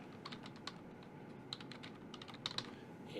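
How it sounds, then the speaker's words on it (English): Light, irregular keystrokes on a computer keyboard as Python code is typed, a quiet scattering of close clicks with no voices. "you can type in code"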